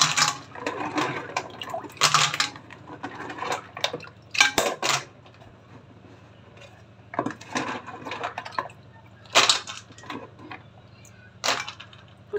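Water is poured off clams into a kitchen strainer, sounding as bursts of splashing and rattling against the metal, broken by quiet gaps, near and fairly loud.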